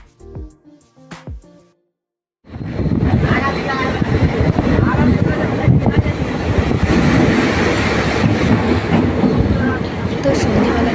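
A passenger train crosses the Farakka bridge. After a brief quiet moment with a few voice sounds, a loud, steady roar of wheels and carriages sets in and holds to the end.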